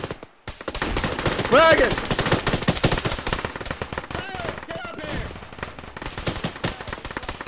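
Sustained automatic gunfire in a ShackTac military shooter game, dense rapid bursts close by and echoing, with a player voice speaking briefly over the shooting.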